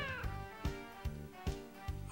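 A cat meows in the JoJo's Bizarre Adventure Part 3 video game, with several short meows repeating at a steady rhythm over looping game music.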